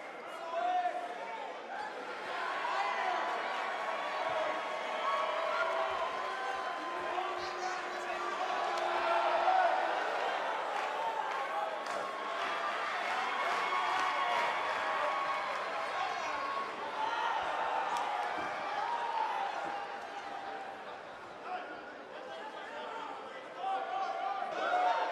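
An arena crowd waits before an NWA World Junior Heavyweight Championship wrestling match, The Sheik vs. Eddie Graham, with a steady murmur of chatter and shouts that holds through the whole stretch.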